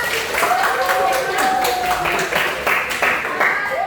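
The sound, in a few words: class clapping hands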